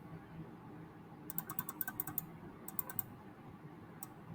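Quick, light clicks in small clusters, sharp and close in a quiet room, as a computer mouse double-clicks a field in SAP software.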